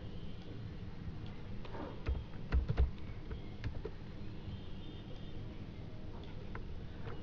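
Soft, scattered keystrokes on a computer keyboard while entering site data into a PHP and HTML form, with a quick cluster of louder taps in the middle and faint room hum.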